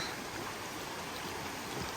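A river runs beneath a narrow plank footbridge on a Carpathian trail near a waterfall, a steady broadband rush of flowing water, even and continuous with no voices.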